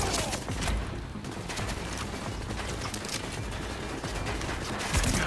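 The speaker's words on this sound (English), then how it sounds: "The guy shooting at me is a bit of a pain." Gunfire in The Division, a video game: a steady, busy stretch of shots and impacts, some sharp and close, others softer, continuing for several seconds without voices.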